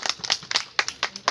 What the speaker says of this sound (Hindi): क्लैपिंग